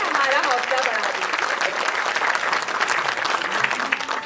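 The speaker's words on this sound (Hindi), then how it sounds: "अगर पसंद आया तो ताली बजा के हमारा हौसला बढ़ा दीजिए।" Sustained audience applause at a school event in Delhi, a loud, dense wash of many hands clapping continuously from start to finish, with some voices mixed in among the crowd.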